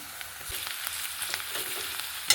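Garlic paste and onions fry in hot oil in a pan with a soft, steady sizzle, broken by a few light stirring knocks close by.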